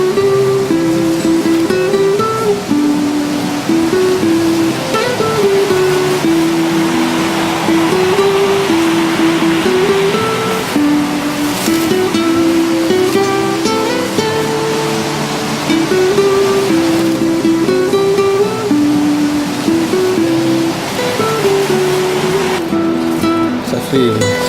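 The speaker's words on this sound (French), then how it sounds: "Là, on surplombe une dizaine de mètres la rivière." A river flowing about ten metres below a ledge in a Cévennes gorge, heard as a steady, loud, continuous rush of water throughout, with no talk over it.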